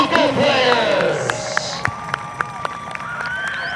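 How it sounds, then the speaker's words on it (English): A crowd at a high school soccer game cheers for the senior players, with whoops and scattered claps up front, then a few sharp, separate claps as the cheering dies down. No words can be made out. "let's give a rousing round of applause for your senior Lion soccer players"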